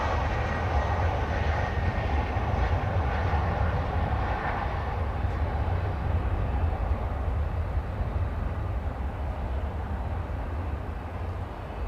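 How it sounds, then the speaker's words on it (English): An American Airlines Boeing 737-800 departing DFW gives a sustained jet engine roar, broad and steady, at moderate distance, slowly fading toward the end. "That's American flight 2424, 737-800, on its way to the City of Angels, Los Angeles."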